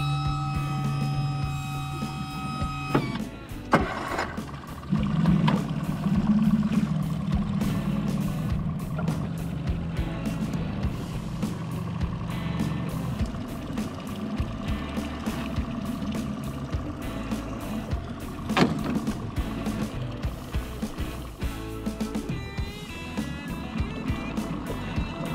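A steady low motor drone runs throughout, with a brief tonal beeping at the start and occasional clanks over the engine.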